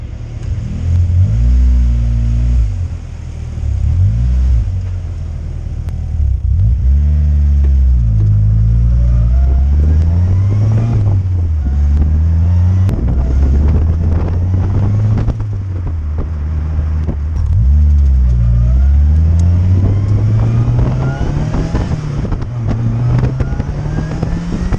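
A car fitted with a ported Chinese turbo wastegate drives and accelerates repeatedly, its engine note rising and falling through several loud revving pulls with steady wind rush and no talking.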